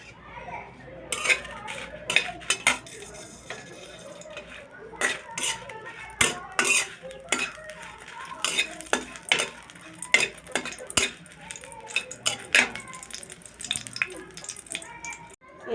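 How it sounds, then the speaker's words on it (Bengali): Dried red chillies frying in a small amount of oil in a kadai, with sharp metallic clinks and scrapes of stirring recurring steadily over a faint background sizzle, close and fairly loud. "চার পাঁচটা শুকনো মরিচ আমি ভেজে নেবো"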